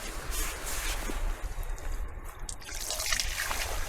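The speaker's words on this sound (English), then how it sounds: "this water dripping out of this side keel here" Water trickles and drips steadily from a boat's keel after the bung is undone while the hull sits on a slope, a close continuous dribble with wind-like outdoor noise around it.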